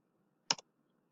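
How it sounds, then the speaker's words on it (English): A single computer mouse click, a crisp double-tick, heard alone and close against quiet background. "And then I would click on that."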